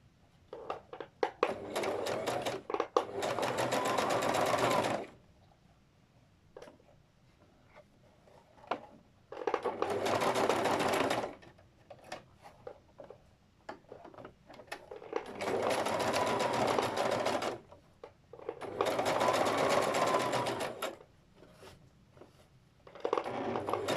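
A sewing machine stitches a folded-in fabric edge in four loud, sustained runs of rapid mechanical whirring, with quiet pauses and small handling clicks between them.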